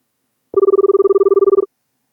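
A single short telephone ring sounds during a phone call, a rapid trilling electronic bell pulsing about sixteen times in just over a second. It is loud and close, with silence on either side.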